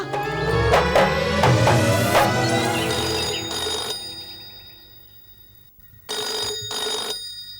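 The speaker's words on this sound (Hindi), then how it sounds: "कब से फोन की घंटी बज रही है?" A telephone rings in bursts over a busy tonal background, then two shorter rings sound after a quiet gap.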